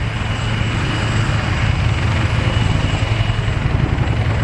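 Boeing Chinook helicopter at an RAF airshow, its steady low rotor drone and thudding blade pulse running continuously and loud with a broadband engine roar, no talk.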